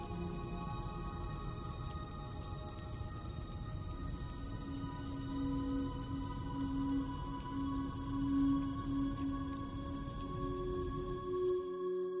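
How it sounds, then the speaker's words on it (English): Steady rain pours down in the video game Death Stranding 2, a dense continuous hiss with a faint low tone underneath, no voices. "Those raindrops are falling on my head, they keep falling"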